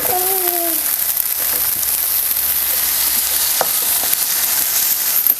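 Onion and tomato sauté in a pan for a drumstick vegetable dish, a loud, steady sizzle and crackle with a brief squeak at the start and an occasional utensil tap.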